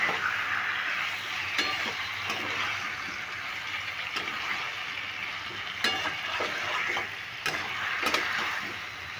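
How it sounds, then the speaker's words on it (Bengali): Jackfruit, potato and paneer curry cooking down in a pan with a splash of water, a steady moderate sizzle with scattered sharp clicks and scrapes of stirring. "এইভাবে জল দিয়ে কিন্তু খুব ভালো করে কষিয়ে নিতে হবে।"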